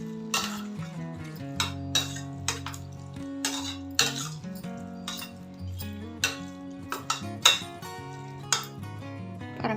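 A spoon stirring pongal in a metal pot, with repeated clinks and scrapes against the side in an uneven rhythm, close and clear, with no voices.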